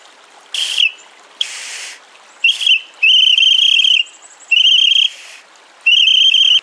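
Plastic pea rescue whistle blown in freezing winter cold outdoors, six sharp shrill blasts of varying length separated by short pauses, loud and close.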